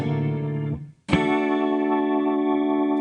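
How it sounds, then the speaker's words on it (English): A super-distorted organ tone from an Electro-Harmonix keys emulator pedal holds a sustained, buzzy chord, drops out briefly, then returns with a sharp attack and rings on loud and steady, with no talking. "super distorted organ sort of sound?"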